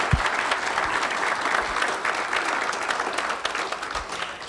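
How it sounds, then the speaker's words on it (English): An audience at a financial forum claps for a speaker, a dense, steady round of applause that carries on throughout without speech. "let's give him one more round of applause"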